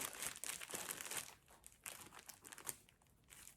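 A packaged Drops Candy Star yarn cake is unwrapped nearby, its plastic wrapper crinkling and rustling in quiet bursts with no voices.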